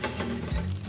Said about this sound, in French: On va commencer par jeter une noix de beurre dans notre casserole.